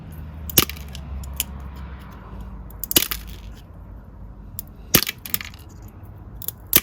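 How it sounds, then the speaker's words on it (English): Ceramic scissors cut through a cup to shape 3D flowers, giving four sharp, crisp snaps spaced a couple of seconds apart over a quiet low hum. "ceramic scissors are doing a really good job"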